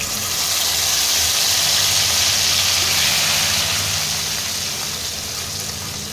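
A ground paste of cumin, coriander, green chilli and ginger frying in a pan with fenugreek, a loud, steady, close hiss of sizzling oil that holds evenly and eases slightly toward the end.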